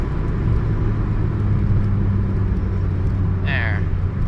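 Hyundai Tiburon with a manual transmission being driven, heard from inside as a steady low engine drone and road rumble. A brief chirp sounds near the end, and a voice speaks over it.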